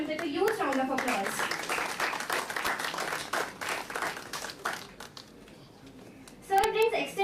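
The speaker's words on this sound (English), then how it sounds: "Please welcome him with a huge round of applause." Applause from a conference audience welcoming a speaker at a national law conference on corporate and insolvency law, a dense sustained patter of clapping that thins out near the end as a voice comes in.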